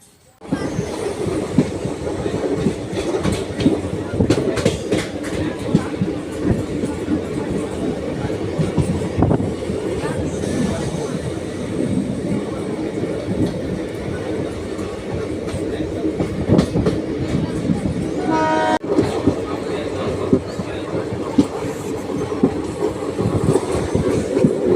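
A passenger train rolls steadily along the rails, with continuous close rumble and rhythmic wheel clatter throughout.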